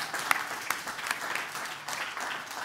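An audience applauds at a church gathering, a moderate, fairly distant wash of many hands clapping steadily for a few seconds.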